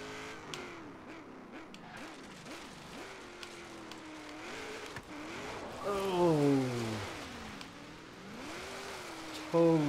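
A Ferrari LaFerrari engine racing in the video game Forza Horizon 3, fairly faint, with repeated revving and gear-shift pitch sweeps and a louder, harsher surge partway through.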